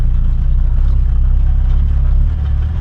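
Honda Civic EK with a swapped H23A engine driving, a loud steady low exhaust drone heard from both exhaust and cabin, continuous and close.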